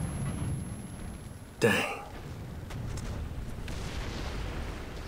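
A single sharp cannon shot from an enemy tank in War Thunder cracks out once and quickly decays over a steady low engine rumble; a man mutters briefly.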